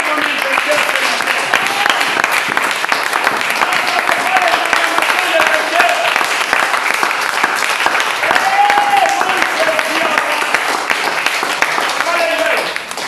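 A church congregation applauds Jesus during a sermon, with sustained dense clapping and cheering voices filling the room steadily for over twelve seconds.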